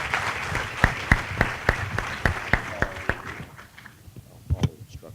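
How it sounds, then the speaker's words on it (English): An audience at a community forum claps in a loose, sparse round, with distinct individual claps standing out before thinning to a few scattered ones at the end. "Let's give them another round of applause."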